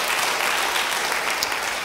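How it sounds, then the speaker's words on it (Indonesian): A congregation claps during a church service, a brief burst of dense, continuous applause filling the whole short moment. "Yang percaya beri tepuk tangan bagi dia"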